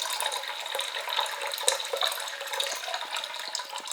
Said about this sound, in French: je mets de l'eau filtrée.